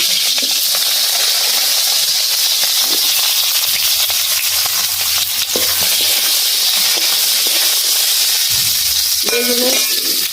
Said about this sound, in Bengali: দিয়ে দিচ্ছি বেগুনটা আমি হালকা ভেজে নেব।